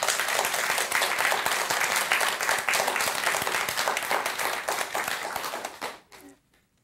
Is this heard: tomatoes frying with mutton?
no